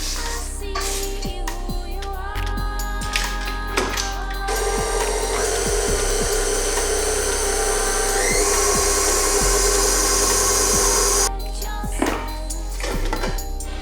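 An electric whisk runs steadily through cookie dough, giving a continuous high motor whine for several seconds that begins and ends abruptly, set among clinks and a low background hum.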